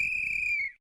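A single shrill whistle blown at night in an animated horror story, one long steady tone lasting under a second over low rumbling, then cutting off abruptly.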